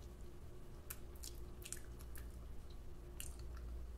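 Someone chews dry edible gold flakes, giving soft, close squishy bites and small crunches at irregular moments over a quiet background.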